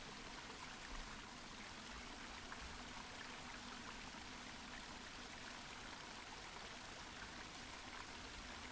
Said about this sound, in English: Just listen to the gentle flow of the water.